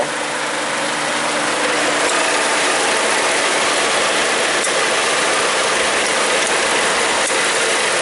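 A 2003 Mazda Protege engine idles roughly with a misfire, a steady mechanical clatter and ticking rattle, close and continuous, with occasional irregular clicks and no talking.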